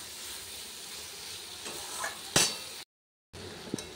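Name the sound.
sautéing potatoes and pointed gourd with prawns in a pan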